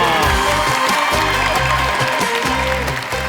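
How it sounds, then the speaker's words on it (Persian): A studio audience at a children's Quran recitation show claps and cheers, a dense, continuous burst of applause with rhythmic music underneath. "به افتخارتون یک بار دیگه دست و جیغ و هورا"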